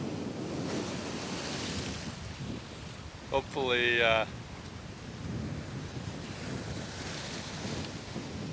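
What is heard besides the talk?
ocean waves splashing on beach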